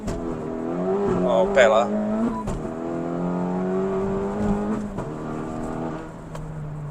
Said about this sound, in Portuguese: a gente pode trocar de marcha sem tirar o pé do acelerador